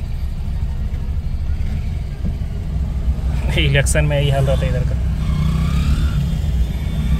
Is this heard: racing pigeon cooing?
no